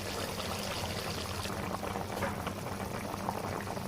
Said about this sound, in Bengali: মাংস কষানোর জন্য পানি দিয়ে দিয়েছি